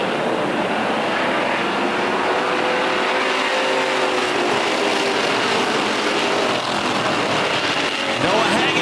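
Stock car race field roaring around the track in the late laps, a loud continuous engine drone with rising and falling pitch as the pack sweeps past, heard from a distance.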